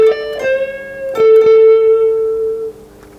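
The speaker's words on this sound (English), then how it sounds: "So that phrase sounds like this." Electric guitar plays a short blues phrase with a half-step bend, a few clear plucked notes ringing out and sustaining alone before fading.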